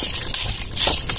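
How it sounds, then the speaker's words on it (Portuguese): Water is poured into a pot for fish stew cooked with sour cashew fruit, a short close gush and sloshing splash that comes in uneven bursts. "Agora botar aquela água."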